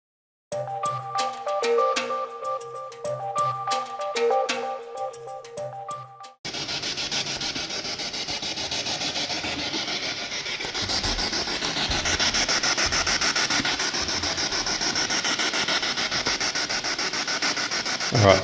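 Harsh, steady radio static from a spirit box device with a choppy, sweeping texture as it rapidly scans stations, following a brief tonal passage at the start.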